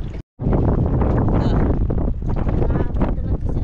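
Strong wind blasts across the microphone during fishing on open water, a loud, continuous rushing roar after a brief silent gap at the start.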